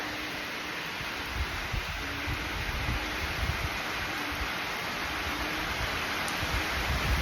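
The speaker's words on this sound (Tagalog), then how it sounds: "Nakakatakot ngayon, malakas yung panahon, malakas yung ulan," Heavy rain and strong wind in Palawan make a constant, dense hiss that stays broad and even throughout, with gusts and pattering on surfaces blending into one steady roar.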